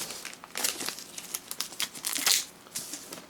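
Stiff plastic Blu-ray box set case being folded, giving close crinkling and crackling bursts with a few sharp snaps over about three seconds, no talk.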